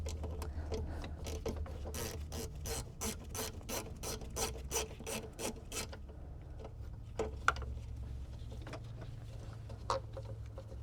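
Rapid clicking of a hand ratchet working a nut loose on the intake of a BMW E46 M3, a steady run of sharp pawl clicks for about six seconds, close and fairly quiet, followed by faint rubbing tool noises.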